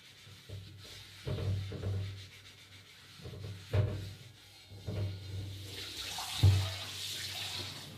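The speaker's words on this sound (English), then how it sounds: "And with my scrubber, I'm going to scrub off the rust." A scrubber works diluted dishwashing soap over a rusty cast iron kadai in uneven, close scrubbing strokes, wet and gritty, over a low steady hum.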